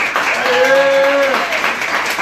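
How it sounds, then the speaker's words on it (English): An audience claps steadily through a live evening performance show, a dense, loud wash of applause with a voice calling out over it. "keep the hand clap going for yourself"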